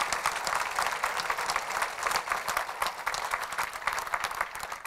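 A crowd at a company launch event applauds, many people clapping in a thick, continuous rattle that holds steady and fairly loud for the full few seconds.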